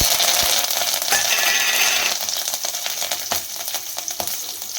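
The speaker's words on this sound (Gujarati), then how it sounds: "હવે આપણે તેમાં મીઠો લીમડો, 1 લાલ મરચું, તજ અને લવિંગ નાખી દઈશું।" Curry leaves, a red chilli, cinnamon and cloves hitting hot oil for a traditional Gujarati dapka kadhi, a loud bright sizzle that bursts up at first and then settles into steady crackling frying.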